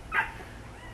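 A single short, high yip from a dog rings out once, moderately close, then fades into quiet background noise.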